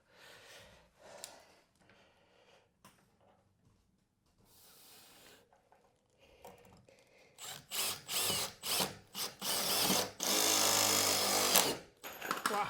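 A power driver runs screws into a French door sill in a metal insulated panel garden room, starting with faint scattered handling noises, then loud repeated whirring bursts, one long sustained run near the end.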